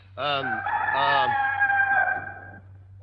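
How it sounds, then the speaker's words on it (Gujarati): A rooster crows loudly and close, a long drawn-out cock-a-doodle-doo over a low steady hum. "કુકડો બોલ્યો વાણું આવી ગયું"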